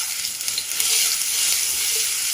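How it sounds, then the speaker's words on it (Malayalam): Ginger garlic paste sizzling in hot sunflower oil, a steady loud hiss of frying that carries evenly throughout with faint stirring bumps. "ചൂടായ എണ്ണയിലേക്ക് ഒരു 1/2 ടീസ്പൂൺ അളവിൽ ഇഞ്ചി വെളുത്തുള്ളി പേസ്റ്റ് ചേർത്ത് കൊടുക്കുക"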